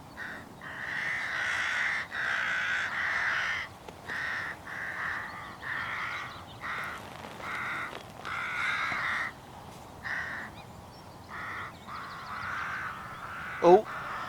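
Rooks and crows caw repeatedly outdoors in the countryside, a rhythmic series of harsh calls at moderate distance, with one short sharp noise near the end.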